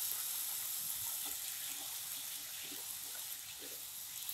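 Green beans tumble into a hot pan of fried onion, ginger and garlic, giving a steady broadband hiss and sizzle with soft low knocks, held at an even level throughout.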